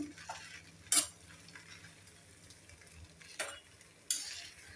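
Pulao being stirred and mixed in a pan with a spoon, producing soft scraping and a few sharp clinks of utensil against the pan over a quiet background sizzle.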